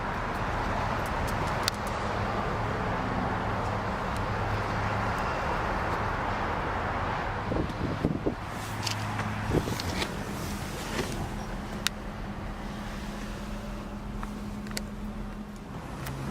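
A 2003 Dodge Viper SRT-10 with a six-speed manual gearbox settles into a low, steady idle rumble, with a few brief mechanical clicks along the way, fairly quiet and with no talk.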